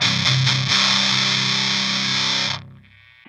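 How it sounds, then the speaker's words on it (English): An electric guitar chord rings through a Rat distortion pedal set to maximum, heavy and fuzzy, loud and sustained, then cuts off into a fading buzz. "And the distortion all the way up, and it starts to get a little fuzzy."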